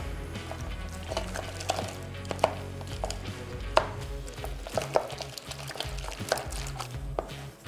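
Choux pastry dough being stirred by hand in a pan, a steady run of soft scraping and thudding strokes with small clicks against the pan, close and continuous.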